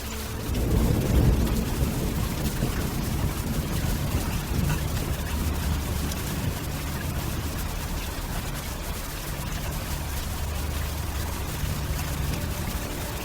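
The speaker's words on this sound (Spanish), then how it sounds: "Y regresa al ritmo de la lluvia." Steady rain falls and pours onto surfaces in a constant, even hiss, with a low rumble swelling early on, continuing unhurried throughout without any voices.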